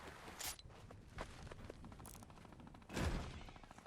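Sniper rifle shots in Fortnite Chapter 2 Remix zero build mode, about four sharp cracks spaced a second or so apart over quiet game ambience, with the loudest and fullest shot coming near the end.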